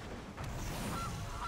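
A Gilded Goose card in the digital card game MTG Arena gives a short goose honk, a faint squawk over a soft background.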